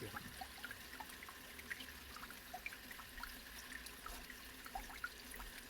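Faint water trickling and dripping as a shower drain clean-out is emptied, a soft steady flow with scattered small drips throughout, quiet and without voices.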